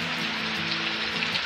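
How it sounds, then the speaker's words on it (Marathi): Heavy monsoon rain falls on farm fields in a Konkan village, a dense, steady hiss of drops hitting the ground, close and even throughout with no speech. "मजबूत पाऊस पडतोय."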